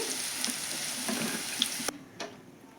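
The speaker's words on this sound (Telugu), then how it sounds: "ఇది ఆయిల్లో నేనైతే ఉల్లిగడ ముక్కలు వేస్తున్నానండి కొద్దిగా" Onion pieces fry in hot oil for a bitter gourd curry, with a soft, even sizzle and a few light clicks before it suddenly drops to a quieter hiss and a final tap.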